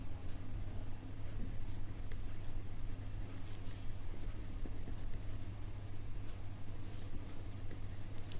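Pen writing out maths working on paper, faint scratchy strokes and taps close to the microphone, heard over a steady low electrical hum with no speech.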